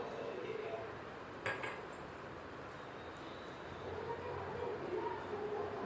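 A Maggi masala mixture of tomato sauce and chilli sauce is stirred in a pan, with a steady low scraping and sizzling broken by a single clink of utensil on metal near the start.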